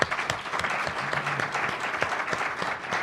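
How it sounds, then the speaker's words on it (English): Audience applause for panelists at a transportation and storage workshop in Denver, a steady moderate wash of clapping from a seated crowd throughout. "please join me in giving the panelists a round of applause"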